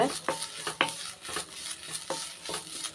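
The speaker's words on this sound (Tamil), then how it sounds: "நல்லா சிம்லேயே வச்சு தேங்காய் வந்து நல்லா வதக்கிக்கிறலாம்" Grated coconut sautéed in a pan over a low flame, soft sizzling beneath rhythmic spatula scrapes and taps against the metal, close and fairly quiet.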